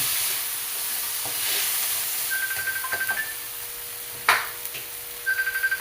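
A pot of bulanglang, vegetables cooked with tomatoes, is stirred with soft scraping and clinking knocks against the pot over a steady simmering hiss, with a faint electronic beep repeating now and then.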